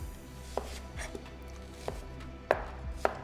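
A knife chops an onion on a cutting board, trimming out a bad spot: several sharp, separate thunks at irregular intervals, fairly close, with quiet gaps between them and no talking.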